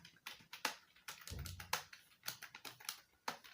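Someone types a sentence in MS Word on a computer keyboard: close, sharp keystrokes in uneven runs, with a few heavier thumps, likely the space bar.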